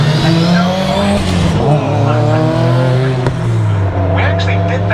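Time attack race cars lap the Cadwell Park circuit, their engines holding a loud, steady drone with shifting pitch and brief tire squeal, while a voice carries faintly underneath.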